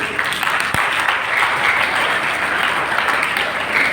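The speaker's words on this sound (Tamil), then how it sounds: "அவங்க ஃபாதர் சொன்னாதான் கைதட்டுவீங்க போல" Dense, steady applause from a large audience at a college literary association's closing ceremony, loud and sustained throughout with no talk over it.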